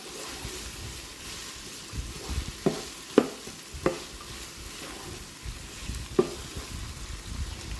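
Vegetables seasoned with salt and pepper softening in a Ninja Foodi PossibleCooker PRO, a soft, even sizzle with several light metallic clinks of stirring scattered through.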